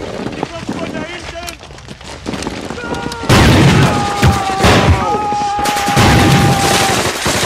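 Loud booms and dense bursts of gunfire fill a WW2 D-Day landing battle scene, with heavy blasts, rapid shots and shouting voices mixed over continuous combat noise.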